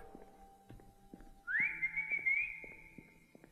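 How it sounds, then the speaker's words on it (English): Whistling in the horror video game Lost in Vivo, a single bright rising whistle that holds a steady pitch for about two seconds over faint game footsteps. "Do I keep the whistle button through this entire game?"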